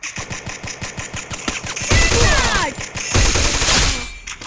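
Rapid bursts of automatic gunfire from the Free Fire battle royale game, loud and close, a steady rattling stutter followed by two denser, heavier volleys around the middle and near the end.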